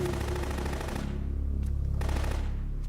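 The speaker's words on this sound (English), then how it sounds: "You're wasting bullets!" Rapid automatic gunfire in Metal Gear Solid 2, a loud continuous burst that cuts off partway through, leaving a low rumbling game soundscape with a few faint sharp pops.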